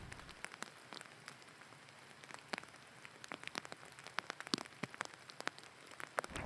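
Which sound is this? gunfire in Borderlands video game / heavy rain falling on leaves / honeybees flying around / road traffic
heavy rain falling on leaves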